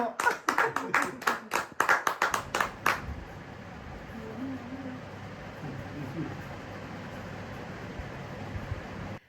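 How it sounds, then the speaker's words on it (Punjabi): A small group claps at home to welcome a newborn baby, a few seconds of close, irregular clapping bursts that stop, leaving quiet room tone with faint voices murmuring in the background. "ਤਾੜੀਆਂ ਮਾਰ ਦੋ"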